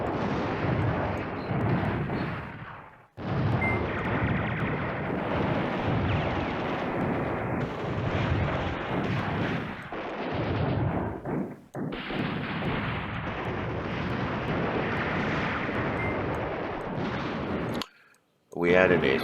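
Artillery fire and airstrike explosions in the Command Ops 2 wargame make a dense, loud, rumbling barrage of overlapping blasts that runs almost continuously, with a couple of brief gaps and a sudden stop near the end.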